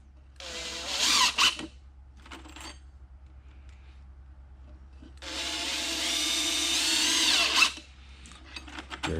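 An impact driver sinks long 6-inch screws without big heads in two bursts, the first about a second long, the second a steady four-second drive ending in a sharp clack, with a quiet pause between.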